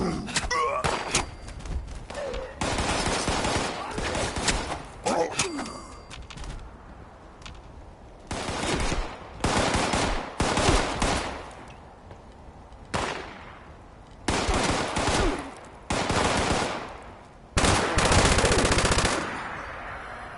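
Machine gun fire in Fallout 76 on PS4 comes as loud, close automatic bursts. Repeated volleys of a few seconds each are separated by brief quieter gaps and thuds.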